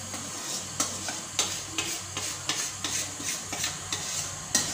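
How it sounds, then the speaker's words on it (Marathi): Dhokla batter is stirred in a bowl while poured into a pot of steaming water, with regular spoon scrapes about every half second over a soft steady hiss and no voices. "असंच आपण ढवळत ढवळत या मिश्रण भांड्यात ओतणार आहोत"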